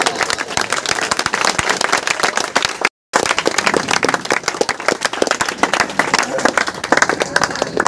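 An audience at a government high school function gives continuous loud clapping that fills the whole stretch, with a brief cut of silence partway through and a murmur of crowd noise underneath.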